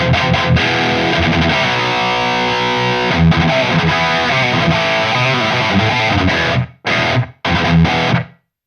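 An electric guitar plays a driven rock tone through a boost pedal on an 80s-inspired stereo effects pedalboard, with loud, sustained distorted chords and notes ringing steadily before cutting out into a few short closing stabs.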